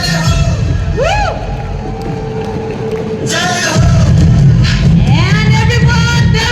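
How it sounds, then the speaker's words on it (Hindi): An event crowd cheers and whoops loudly with clapping mixed in, the roar swelling in waves and growing louder partway through, with voices shouting over it. "Everybody with their clapping"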